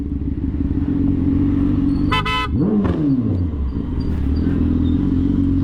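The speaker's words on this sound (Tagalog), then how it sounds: "Oh, may kotse, ang bilis, ayaw magbigay." A fast car speeds past a moving motorcycle on a road and sounds a short horn burst, its engine pitch sweeping down as it passes close, over steady wind and motor rumble.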